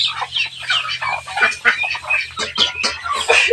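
Chickens cluck repeatedly in a busy, close flock, with sharp overlapping calls and a steady low hum behind them.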